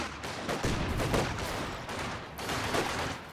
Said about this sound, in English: Is met by conscripts who's taking pot shot at them as they move the long way around